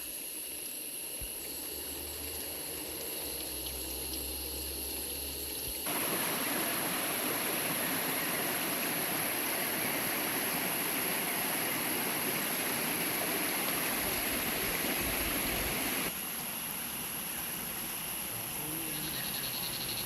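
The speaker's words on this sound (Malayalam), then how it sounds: "നമ്മുടെ സ്ഥലത്തിൻ്റെ സെൻറ്ററിൽ കൂടെ തന്നെ ചെറിയൊരു അരുവി ഒഴുകുന്നുണ്ട്" A small stream flows through the middle of a cardamom estate, giving a steady, continuous rush of water that swells louder midway and settles back, with no voices.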